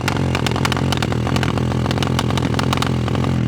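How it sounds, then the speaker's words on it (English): Mini supermoto engine held at full throttle, a loud close buzzing drone peppered with rapid irregular popping backfires, running continuously without talk. "It's backfiring way too much."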